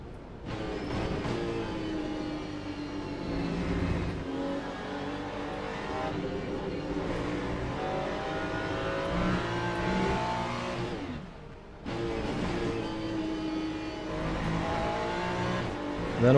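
A Ferrari GT3 race car in Le Mans Ultimate at Spa, engine revving hard and climbing through the gears with sharp upshifts, a steady loud roar that dips briefly before surging again.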